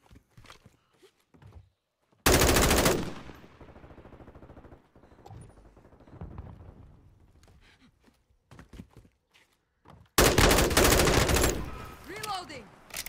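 M4 rifle fire in Modern Warfare 2 arrives in two loud, close automatic bursts, each a dense rattle of rounds lasting a second or two, separated by quieter stretches of movement, footsteps and faint game chatter.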